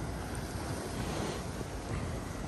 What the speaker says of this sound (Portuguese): as ondas, ó, as ondas agora tá extremamente pequeno